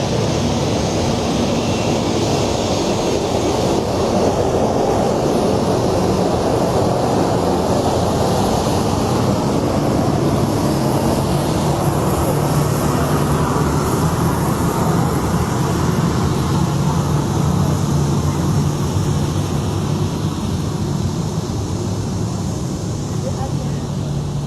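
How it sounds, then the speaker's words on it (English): Jet engines of the Liberian presidential aircraft at the airport, a loud continuous roar with broadband rushing noise and low rumble held steadily throughout, with no clear speech. "powerful sound of engines"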